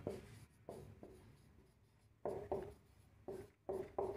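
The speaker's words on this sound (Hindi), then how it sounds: "अब ये मार्कर भी मैं अगर चला रहा हूं" A marker squeaks across a board in short bursts, several separate strokes with pauses between them, close and fairly loud with no talk over them.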